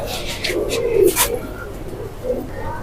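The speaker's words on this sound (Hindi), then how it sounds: "कबूतर डर रहे हैं" Fancy-breed pigeons in a loft give soft, low cooing calls in a few short bursts, close by and moderately loud, with a faint dog-like bark and light background noise.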